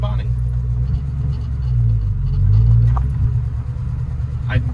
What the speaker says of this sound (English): So I'm probably really just listening to a big exhaust leak.